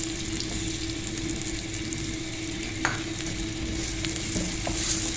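Chopped onions frying in butter and oil for a macaroni white sauce, a steady close sizzle with soft stirring scrapes throughout, no voices.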